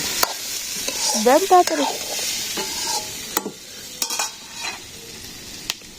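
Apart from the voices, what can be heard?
vegetables frying and being stirred in a pan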